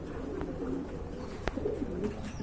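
A pair of all-black pigeons coo softly in short, low murmuring phrases, faint and close, with a single sharp tap partway through and no talk.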